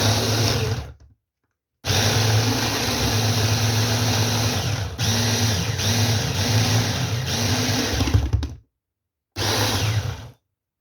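Kitchen blender pulsing two onions and about three garlic cloves into a paste, a loud whirring motor in several bursts separated by short silences, with the pitch shifting as the chunks break down; no talk.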